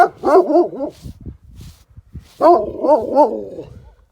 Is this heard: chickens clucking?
no